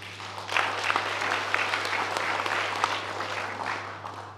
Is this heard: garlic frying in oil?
no